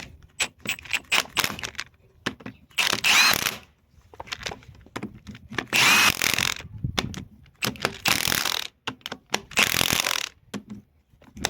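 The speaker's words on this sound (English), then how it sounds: "Just get your impact. Give it a little snug." An impact wrench snugs the bolts on a Gehl auxiliary pump during a rebuild, firing several short, loud rattling bursts spaced a few seconds apart, with metallic clicks and handling noises in between.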